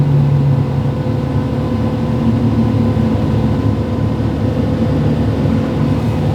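A 72 inch brush cutter runs with its clutch straining, a steady loud mechanical drone with a low hum and no breaks, free of talk.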